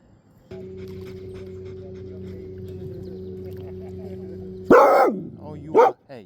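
A dog on a fishing boat gives two sharp, loud barks near the end, preceded by several seconds of a steady, low droning hum from the boat.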